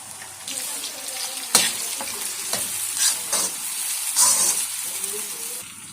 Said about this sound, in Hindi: अब हम इसमें टमाटर शामिल करेंगे और इसको भी थोड़ी देर तक पका लेंगे।